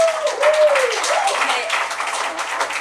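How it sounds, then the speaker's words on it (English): Audience clapping at a public Industrial Development Agency meeting, a steady wash of many hands close by, with a rising whistle-like tone early on and some voices underneath. "please just Refrain from clapping."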